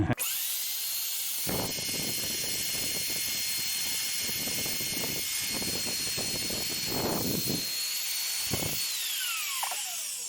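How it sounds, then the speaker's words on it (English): A powerful power drill whirs steadily at high speed during a Toyota truck frame rebuild, loud and close, with brief pauses and revs as the trigger is released and squeezed again. "I can tell by the sound of that drill that it's got a lot of power."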